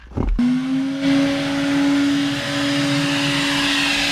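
A vacuum starts up with a short thump, then holds a loud, steady whine with a constant hum while it sucks grime out of car seats, and no one speaks.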